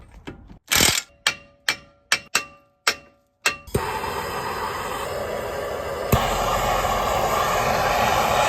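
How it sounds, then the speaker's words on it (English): A ratchet clicks in a string of sharp, separate turns on a car's CV axle nut, then gives way to a long, loud, continuous mechanical whir that runs up close to the end. "right now I'm about to take out the CV axle nut"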